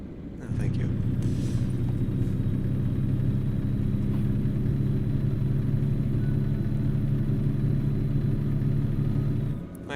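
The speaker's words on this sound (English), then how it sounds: "I have to turn down the engine a little bit." A truck engine in American Truck Simulator drones steadily at a low, loud rumble for nearly the whole stretch, starting and stopping abruptly with no talk over it.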